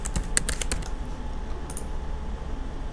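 A Wi-Fi password is typed on a computer keyboard in a classroom workshop: a quick burst of close key clicks, then a few scattered taps over quiet room hum.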